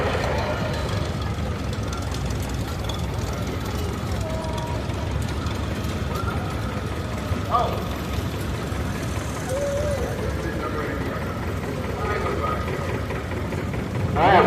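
A 1940 John Deere Model A tractor engine runs steadily with a low, rumbling drone at a threshing show parade, loud and continuous while someone speaks over a public address.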